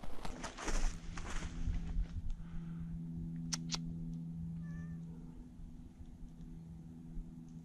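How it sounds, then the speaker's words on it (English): A cat on a walk through an oak savanna meows loudly and close by at the start, then quieter ambient outdoor sound follows with a faint bird call. "She is an insane cat."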